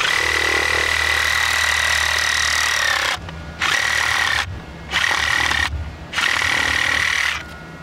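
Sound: Sawzall reciprocating saw cutting plumbing pipe

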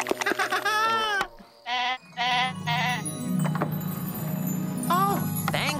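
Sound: sheep bleating

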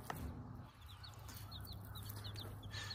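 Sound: game hen clucking with chicks

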